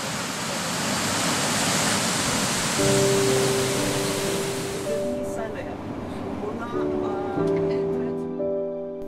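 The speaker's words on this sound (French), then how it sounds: "Une belle cascade à l'entrée du parc de Laima." A waterfall at the entrance of Laima park in the Baltic states pours as a steady, dense rush of broadband noise throughout, with voices and tonal sounds heard over it in the second half.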